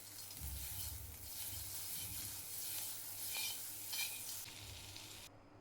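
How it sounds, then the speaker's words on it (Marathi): Butter sizzles and crackles steadily in a hot kadhai while corn chaat is being made, a continuous close frying hiss with faint stirring and utensil touches, no voices. "बटर टाकायचं आहे."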